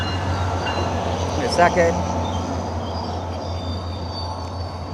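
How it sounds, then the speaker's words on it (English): A train passes in the distance under steady background hum while someone talks indoors, its rumble rising briefly and fading. "there's the train."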